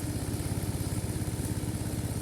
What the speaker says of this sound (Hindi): बाइक स्टार्ट करके रखे हैं